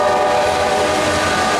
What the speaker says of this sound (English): Oh no, it's the ore train.